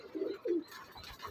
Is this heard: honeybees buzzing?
no